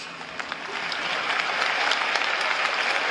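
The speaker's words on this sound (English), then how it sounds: "Let's clap it up for these pioneers." A live audience breaks into applause, a dense, continuous wash of many hands clapping that builds slightly and holds steady throughout.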